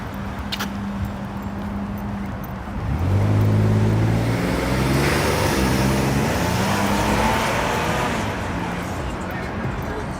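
Cars drive past on a Burbank, Los Angeles street at sunset, one vehicle swelling loudly as it passes close with engine and tire noise, then fading under steady traffic rumble.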